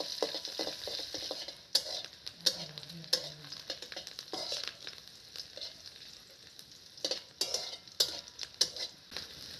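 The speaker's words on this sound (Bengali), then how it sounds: "এই লঙ্কা এবং পেঁয়াজ কুচিগুলোকে আমি এখানটায় ভালো করে ভেজে নেব।" Chopped onion and green chillies sizzle in hot oil in a pan as a base for a taro paste dish, with steady frying crackle and sharp clinks of a spatula stirring against the metal.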